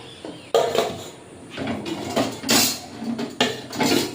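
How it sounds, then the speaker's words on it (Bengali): Metal wok (karai) set down and shifted on a stove, a few irregular clanks and scrapes of metal cookware at close range, no voices. "তাহলে কড়াইটা বসিয়ে দিয়ে মাছগুলো সব ভেজে নেব।"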